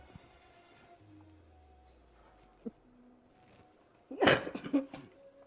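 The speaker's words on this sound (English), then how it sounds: "Need to cough." A single person coughs in a kitchen during a cooking stream, a short harsh burst of several coughs following quiet, low room sound and a brief knock.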